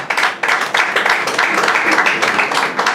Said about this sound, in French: ça s'applaudisse